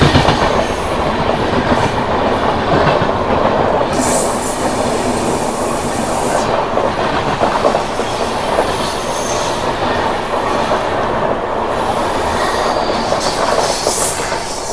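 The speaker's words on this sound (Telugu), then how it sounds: "ఈ ట్రైన్ వచ్చేసి మనకు హౌరా నుంచి తిరుచిరాంపల్లి వెళ్తుంది ఇప్పుడు" The Howrah to Tiruchirappalli bi-weekly express passes close by with a loud, continuous rumble, wheels clattering and squealing on the rails, and the roar rising and dipping over about fifteen seconds.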